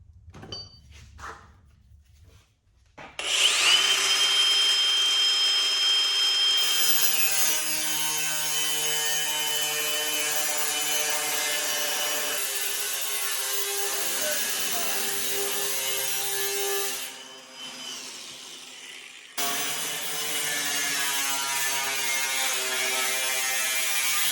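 A cutoff wheel cuts metal on a budget bootleg box repair, starting with a rising whine and then sustained loud grinding for about twenty seconds, with one brief dip before it carries on.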